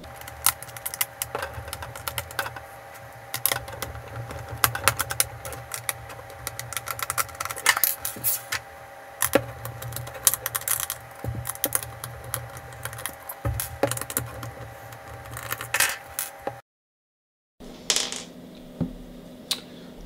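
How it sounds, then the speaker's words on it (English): Screws being removed from the back of a DJI Phantom 3 remote controller: small close clicks, ticks and plastic handling noises in irregular bursts, then a brief silence and a few quieter taps. "we've got four screws at the back here, so we'll just take all those four screws off"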